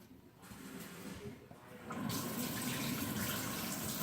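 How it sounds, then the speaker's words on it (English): Cool tap water running into a sink to rinse a brined turkey, starting as a softer flow then growing to a steady, louder gush for the last half. "got me some cool water to rinse, get ready to rinse them all off"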